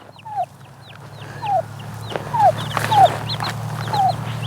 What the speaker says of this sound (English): We just want to check out your chicks.